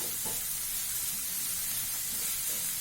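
Red capsicum frying with onion in a pan over a high flame, a steady dense sizzle running throughout at close range, with faint stirring movements and no talking.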